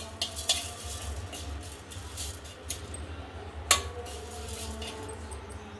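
A spoonful of coriander seeds fries in a pan after cashews, giving a low, quiet sizzle with scattered clinks and scrapes of a utensil against the pan.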